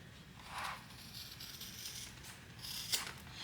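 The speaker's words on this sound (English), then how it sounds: "we're going to trim down the corners up to the middle" Fabric scissors trim the seam corners of a sewn commuter bag, giving a few faint, quiet snips spaced apart against a soft room background.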